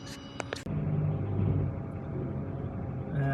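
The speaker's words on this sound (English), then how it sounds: "A container truck just went by." A container truck rolls past on the road with a loud, sustained low rumble that swells and holds, following a few brief sharp sounds at the start.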